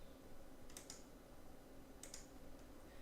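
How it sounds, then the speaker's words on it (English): Someone types on a computer keyboard during an online forex trading session, two quick pairs of faint key clicks over a steady low hum. "Somebody's typing"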